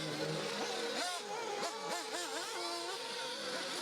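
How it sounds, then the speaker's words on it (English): A race car engine accelerating out of a hairpin at an RCGP race in Austria, with loud rising and falling engine pitch as gears shift, sustained and fairly close, with no talking. "Wagner powering out of the hairpin."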